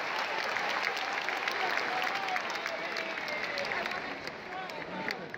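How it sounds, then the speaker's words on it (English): A stadium crowd applauds during a New Zealand versus Namibia Rugby World Cup 2019 match, dense sustained clapping and cheering that swells early, then eases slightly and lifts again near the end. "The crowd applauding this."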